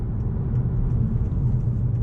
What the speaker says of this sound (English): So we're going to go into sport mode and take a turn right here.